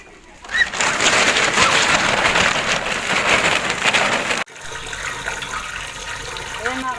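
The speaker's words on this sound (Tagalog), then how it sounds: "nagre-refill na po ako ng tubig sa kasirola" Tap water gushing steadily into a cooking pot in a backyard for about four seconds, then cutting off abruptly, while pigeons or doves coo nearby.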